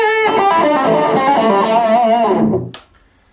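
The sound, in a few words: electric guitar through amp, bluesy crunchy overdrive distortion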